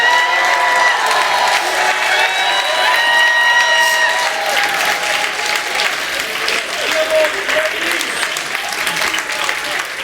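Dense audience applause fills a conference session, steady and loud throughout with a few cheers and raised voices over the clapping.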